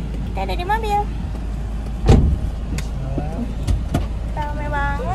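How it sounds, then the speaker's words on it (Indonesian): Inside a moving car, steady road and engine noise hums beneath people talking nearby, with a sharp thump partway through. "Kita ada di mobil."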